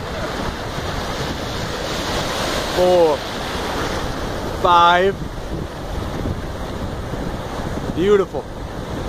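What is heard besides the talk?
ocean waves at the beach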